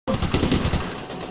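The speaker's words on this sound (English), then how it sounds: "The enemy opened fire. Bullets are flying here, sir." Rapid automatic gunfire from enemy soldiers in the 2002 game Platoon, a loud close burst of quick rhythmic shots that fades slightly toward the end, with no talking.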